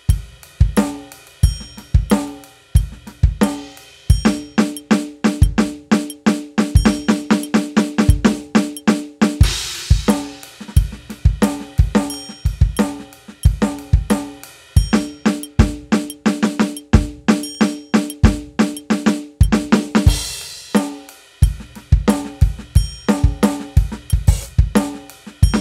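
Drum kit fill with rapid snare strokes and kick drum on triplet upbeats, a busy popcorn-like pattern; loud, close and continuous with dense rhythmic hits and occasional cymbal crashes, no talking.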